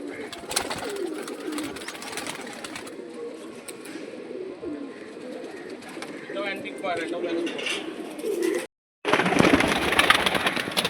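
Pigeons coo softly in low, rolling murmurs nearby while people talk over them, with a faint engine hum in the background.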